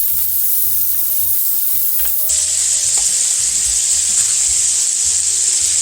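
Scallops sear in a hot pan seasoned with kosher salt and pepper, giving a steady close sizzle that jumps louder and brighter partway through and then holds strong to the end.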